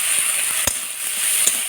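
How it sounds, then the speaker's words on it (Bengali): Turmeric, Kashmiri chili and coriander paste fries in hot oil with a steady, bright hiss, loud and close, broken by a few sharp pops and spatters. "দিয়ে ভালো করে আমি কষে নেব"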